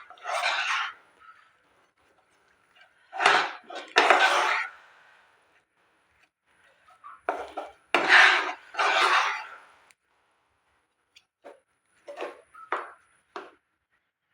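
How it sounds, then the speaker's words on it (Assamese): A rice flour mixture being stirred in a pan over a low flame for a rice flour barfi sweet, heard as intermittent bursts of scraping and rubbing against the pan, separated by quiet pauses. "ল' ফ্লেমত মই এইখিনি ভালদৰে ইয়াতে লাৰি থাকিম অলপ ডাঠ হোৱালৈ"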